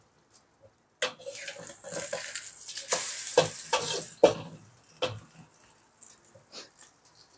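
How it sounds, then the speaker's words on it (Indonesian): Nasi goreng stir-fried in a pan, with loud crackling sizzle and scraping stirring strokes up close, easing toward quieter sizzling and clinks at the end. "Mau masak nasi goreng"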